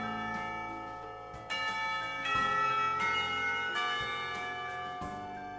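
Loud church bells ring in a rich, sustained peal, with fresh strikes landing every second or so over a lingering, ringing hum.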